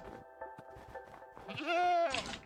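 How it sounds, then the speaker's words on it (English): A goat in the Minecraft video game lets out one loud, wavering bleat near the end, after a stretch of quieter game noises. "Hopefully this goat doesn't push me off"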